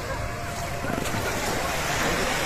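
Waves wash onto a beach in Batangas, a continuous loud roar of surf blended with wind buffeting the microphone, no clear talk over it.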